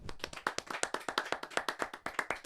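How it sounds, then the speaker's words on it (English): A small group gives a brief round of applause with a handful of hands clapping close by in a quick, fairly even rhythm, crisp and distinct, with no talk over it. "Little round of applause."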